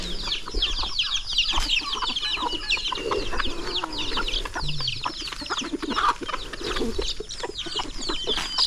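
Hens with small chicks on a farm clucking steadily, with many overlapping chirps and clucks from a flock close by, continuous throughout amid a busy rural yard.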